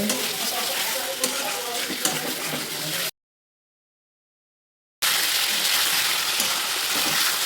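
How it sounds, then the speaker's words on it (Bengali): Mutton fries on a medium flame while being stirred constantly, a loud, close, dense sizzle with scraping, broken by a sudden two-second silence before resuming at the same intensity. "আর মিডিয়াম ফ্লেমে অনবরত নাড়াচাড়া করতে থাকবো।"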